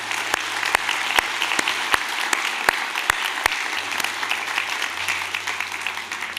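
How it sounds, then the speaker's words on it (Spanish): Congregation applauding in a church service, a steady wash of clapping from many hands with a few sharp, louder claps standing out near the front, sustained throughout. "Damos aplausos, hermanos, a nuestros hermanos."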